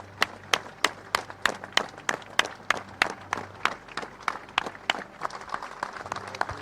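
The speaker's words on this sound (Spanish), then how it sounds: "los féretros de los mineros fallecidos son despedidos entre aplausos" Slow, rhythmic clapping from a crowd at a funeral for miners killed at the Cerredo mine in Spain, steady and unison-like beats about three per second, sounding outdoors and somewhat distant.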